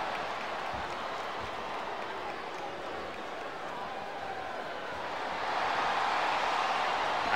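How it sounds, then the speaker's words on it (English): A wrestling arena crowd in the game WWE SmackDown! Vs. Raw roars with a steady wash of cheering that swells louder toward the end. "Now the fans start to cheer for him."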